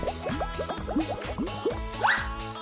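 Wet, squishy squelches of facial gel and foam being squeezed out come in a quick series of bubbly, dripping pops, close and fairly clear.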